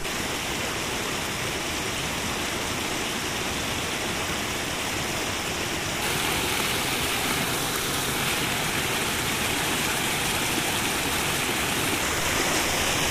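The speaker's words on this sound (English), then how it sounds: "we're getting close to a creek here." Minister Creek flows through the Allegheny National Forest with a steady, broadband rushing of water over rocks, loud and continuous, growing slightly stronger partway through, with no voices.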